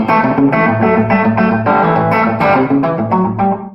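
Distorted electric guitar chords ring out in a quick rhythmic pattern, loud and close, with a gritty, saturated tone.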